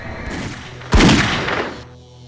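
Gunfire in The X-Files video game: a loud sharp report about a second in, followed by a sustained burst of noisy, rumbling shots over a low background hum.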